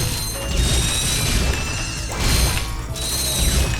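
Bolts being collected in the video game Ratchet & Clank, producing dense metallic clattering and ratcheting jingles in repeated bright bursts, loud and busy, with no talk.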